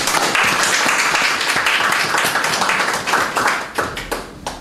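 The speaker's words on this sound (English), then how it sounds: "give each other, those of us who are in the room representing both countries, another round of applause." Loud applause from a room full of people at a handover ceremony, dense clapping that thins out toward the end into a few scattered claps.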